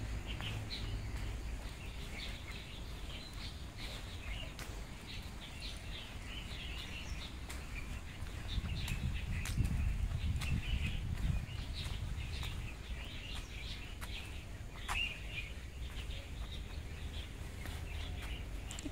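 Many birds chirp in a park, a dense layer of faint, continuous twittering and calls spread over the whole stretch, with a low steady background rumble and no talk.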